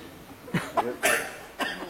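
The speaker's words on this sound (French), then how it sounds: "Et maintenant, vous toussez." A few short, close coughs come in quick succession, each an abrupt breathy burst with brief pauses between.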